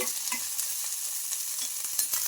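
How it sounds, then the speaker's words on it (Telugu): Green chillies fry in a spoonful of hot oil, a bright continuous sizzle broken by the scrape of a spatula being stirred through the pan, close and alone. "ఇంకా మనకు మిర్చి బాగా ఫ్రై అయిపోవాలి"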